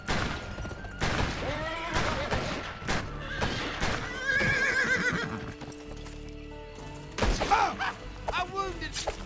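In a cowboy video game, a horse neighs and whinnies several times amid clip-clopping hooves, gunfire and thuds, with someone talking over parts of it.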